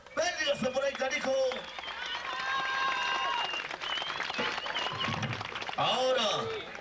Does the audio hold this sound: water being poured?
no